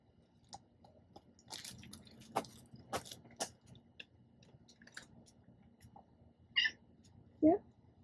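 A house cat gives two short, clear meows near the end, close by, after scattered soft clicks, rustles and handling noises in a quiet indoor setting.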